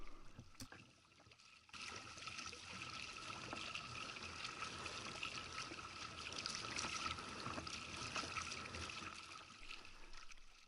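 A paddler strokes a small boat out through a channel between reefs, soft water swishes and trickles repeating faintly and steadily against a quiet, airy background.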